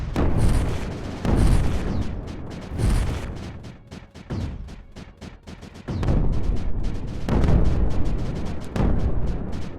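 Cannons fire at creeper bombs in the strategy game Creeper World 4, sending repeated loud booms and explosive blasts in irregular bursts, with no talking over them.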